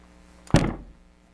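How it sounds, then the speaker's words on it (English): A metal burner door on a Beckett NX oil burner is closed in one quick, solid thunk at close range, with a short resonant tail and no talking. "close the door"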